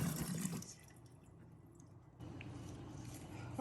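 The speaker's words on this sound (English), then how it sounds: "I use a little bit of water to kind of clean it out and to scrape off the charred bits" Water runs and drips over a charred roasted red pepper as it is rinsed and the blackened bits are scraped off, a soft splashing trickle that thins to quiet drips before the flow picks up again.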